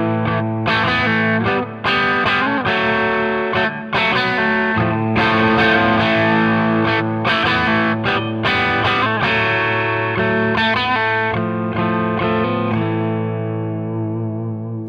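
Electric guitar chords ring through an amp set at the edge of breakup, with slight grit, strummed and sustained for several seconds, loud and close, no voices.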